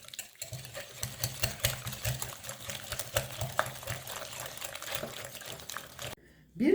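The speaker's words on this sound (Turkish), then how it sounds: "Hepsini güzelce çırpıyoruz." Zucchini fritter batter with cheese being whisked in a bowl, a close rhythmic series of wet clicking strokes that runs steadily, then stops briefly before a final clatter.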